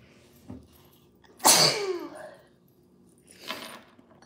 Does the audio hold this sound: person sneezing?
yes